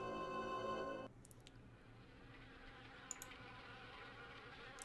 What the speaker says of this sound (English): From the sound of it, these cabinets are infested with wasps.